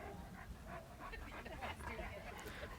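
A puppy in a training session pants and gives soft whimpers and faint yips, close by and quiet, against a low background rumble.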